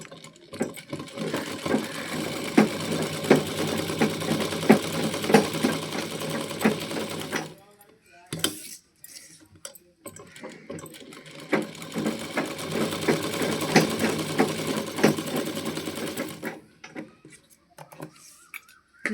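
A sewing machine stitches the lining of a blouse sleeve in two close, rapid runs of rhythmic clattering, separated by a pause, with talk heard between the runs.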